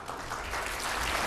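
An audience at a charity auction breakfast applauds in a dense, steady burst of clapping that swells slightly over about a second.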